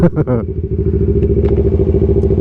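A Kawasaki Z650 motorcycle idles steadily in neutral with a close, loud, even engine rumble after a short burst of talk at the start.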